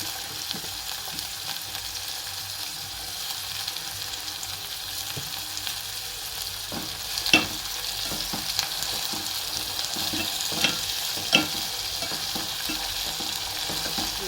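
Tomato frying and being stirred in a pan in a home kitchen, a steady close sizzle with scattered scraping stir strokes and light knocks throughout, no talking.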